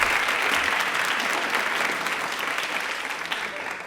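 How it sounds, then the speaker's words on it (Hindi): A studio audience applauding loudly and steadily through the whole stretch at a televised Indian Railways quiz show, the clapping easing off slightly toward the end. "तालियां जोरदार हो जाए"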